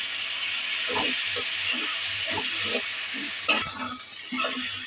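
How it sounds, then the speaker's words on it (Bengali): Ginger, garlic and green chili paste fries in hot oil with bay leaves, giving a steady close sizzling hiss broken by regular scraping stirs of a spatula. "এখন এগুলো ভাজবো।"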